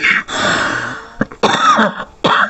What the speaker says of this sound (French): je commence à être vraiment fatigué quand je tousse comme ça